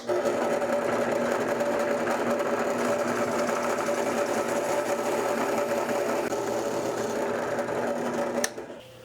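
A small power tool whines steadily while cutting a round fishing-lure bib out of circuit board, a continuous high-pitched buzzing drone that holds for several seconds, then stops abruptly with a brief click.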